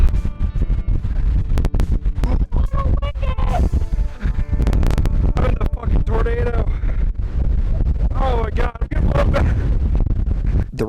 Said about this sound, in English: the wind got more and more intense. Oh, a little windy up here.